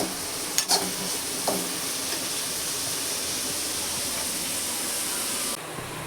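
Onions fry over a high flame toward brown with a dense, continuous hiss. A few spoon knocks come early, then the sizzle carries on steadily alone.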